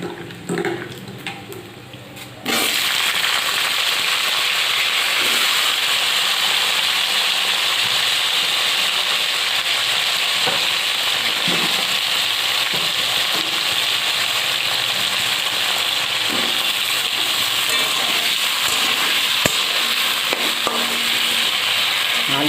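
Potatoes fry in hot oil with green chillies, bay leaves and nigella seeds, a loud steady sizzle that starts abruptly as they go into the pan and holds, with faint stirring clicks.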